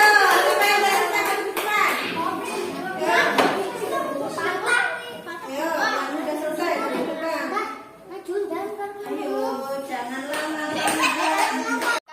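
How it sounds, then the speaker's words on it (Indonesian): Schoolchildren in a classroom clap their hands together in short bursts after a group presentation, with children's voices and a teacher talking over the applause. "Tepuk tangan."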